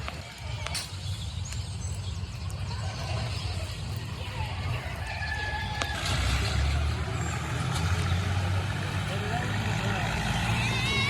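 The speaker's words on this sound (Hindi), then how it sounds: "ये खेत में गाड़ी भी आ गई है" A truck pulls into a village potato field in Pakistan to be loaded with potato sacks, its engine a low steady rumble that swells as it draws near, with brief air-brake hisses and birds faintly in the background.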